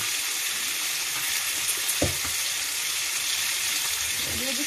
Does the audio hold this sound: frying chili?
yes